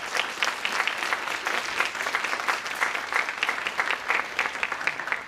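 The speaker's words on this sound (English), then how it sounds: "Applause for Nayo Ulloa" Steady audience applause fills a conference opening ceremony, dense even clapping from many hands carrying on without a break, fairly loud and close, with no talking over it.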